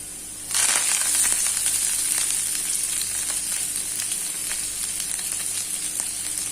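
Vegetables for veg noodles hit a hot pan with a sudden loud sizzle, then settle into a steady, crackling fry that continues close and strong.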